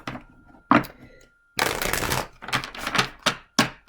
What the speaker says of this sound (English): Let's go ahead and shuffle these. Shuffle these and see what we have.